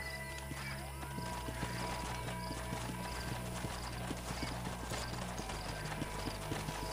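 Horse hooves galloping in Red Dead Redemption, a steady rapid clip-clop rhythm running throughout, close and fairly loud over a dense game soundscape with an occasional whinny.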